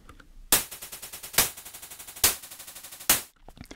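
Looped white noise stretched to four times its length in a granular warp mode, giving a steady buzzing, stuttering texture with rhythmic grain artifacts and four loud bursts at regular intervals, heard alone.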